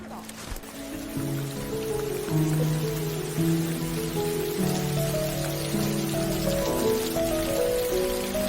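Steady rain falls in a film scene, a continuous soft patter under a swelling melodic music score that carries through the whole stretch.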